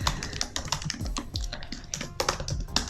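Quick, uneven clicks of fingers typing a username on a computer keyboard, heard close and fairly soft, with no talking.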